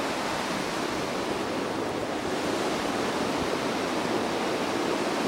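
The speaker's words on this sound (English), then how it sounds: "Nantahala River Falls, as they call it" Nantahala Falls on the Nantahala River in North Carolina roars as a steady, loud, dense rush of whitewater, unbroken and with no voices.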